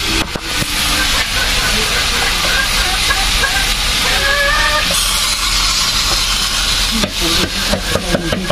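Broken rice grains (khud) frying in a pan, a loud, steady broadband hiss and crackle throughout with intermittent scraping and stirring knocks, heavier rattling near the end.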